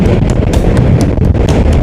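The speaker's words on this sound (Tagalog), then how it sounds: "Ang lakas ng hangin." Strong wind roars across the microphone while riding a scooter along a seaside road in Northern Luzon, a loud, continuous low buffeting rumble with no speech.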